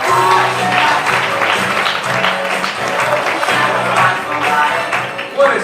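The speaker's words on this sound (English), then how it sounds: "Clap your hands. Let me hear you." A comedy club audience at Ventura Harbor applauds loudly, a dense continuous clatter of clapping hands that fills the room, with some cheering and rhythmic beat underneath.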